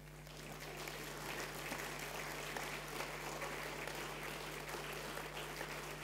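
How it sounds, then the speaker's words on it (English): Members of a church congregation at a Sunday service clap steadily to honour people's years of service, a fairly faint, continuous patter of many hands with a low steady hum underneath. "I think they're worthy of a clap"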